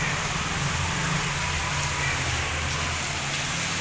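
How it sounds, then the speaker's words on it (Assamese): Steady rain falls during a spring Bihu festival day in Assam, a continuous even wash of hiss with no voices. "এনেকুৱাই বৰষুণ দিছে নহয়"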